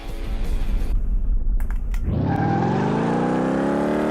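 A Chevrolet El Camino in Car Mechanic Simulator 2018 driven on a test track: loud close engine drone, a brief tire screech, then the engine revving up steadily with a rising whine.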